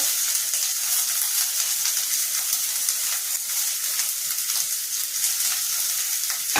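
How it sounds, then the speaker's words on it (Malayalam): Chopped onion, ginger and green chilli sautéing in a hot pan after mustard seeds have been fried, giving a steady, close sizzle and crackle that stays loud and even throughout with no talking. "പിന്നെ അരിഞ്ഞു വെച്ച സവാള വഴറ്റാൻ ഇടുകയാണ്. സവാള, ഇഞ്ചി, പച്ചമുളക്,"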